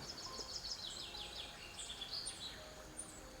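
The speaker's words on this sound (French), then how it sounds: "Des oiseaux chantent." Birds sing and chirp in a sunny, dense, green setting, with quick high twittering phrases that repeat over a soft, steady background, faint and alone.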